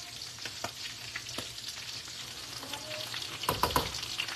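Shrimp Egg Foo Young patties fry in vegetable oil, crackling and sizzling continuously at close range, with scattered pops and utensil taps toward the end.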